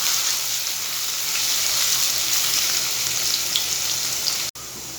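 Chopped chili, ginger and garlic sautéing in a pan for chicken hakka noodles, a steady close sizzle throughout with a brief clatter near the end.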